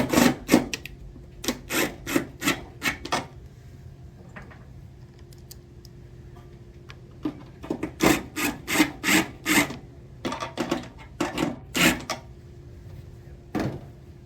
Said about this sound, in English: Then we're gonna put the tech screws in.